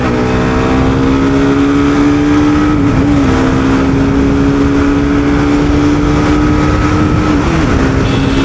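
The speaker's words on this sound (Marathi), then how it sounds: "भाई भयानक गाडी यार आपाची 310" A TVS Apache 310 motorcycle engine drones loud and close while riding, holding a steady pitch with slight rises and dips, under heavy wind rush.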